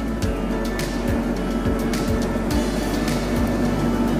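Sinar Jaya executive bus with a Hino RK8 engine running on the southern route, a steady loud low rumble with a deep drone and periodic thumps from the chassis, heard continuously from inside the cabin.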